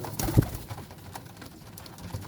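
Flying pigeons coo close by, a few soft throaty calls with a brief flutter near the start, alone over a quiet background.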